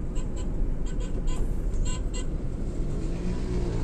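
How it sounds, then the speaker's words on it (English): Road traffic rumbles in Ghana near TT Brothers, a low continuous engine drone from passing cars with a few brief high clinks. "And look at the traffic."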